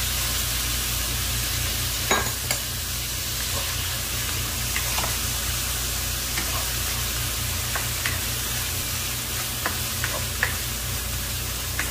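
Chicken and garlic fry together in a pan, a dense steady sizzle throughout with a few faint clicks and scrapes of stirring.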